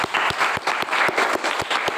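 Audience members in a class session clap together in brief, evenly spaced bursts, a short, fairly close round of applause without speech over it.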